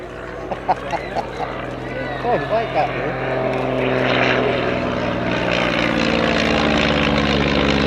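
A light propeller aircraft at an air and car show drones overhead, its engine growing from a faint hum to a loud, steady roar, while a commentator talks throughout.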